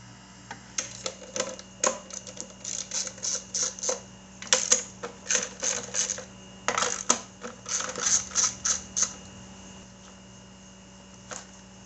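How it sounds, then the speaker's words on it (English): Rapid metallic clicks and short ratcheting bursts, close and fairly crisp, come in uneven clusters as 10mm bolts are loosened from the valve cover of a 2009 Kia Rio5, then a lone click near the end. "First, you need to remove the cover. There's a 3 10mm bolt holding on to it."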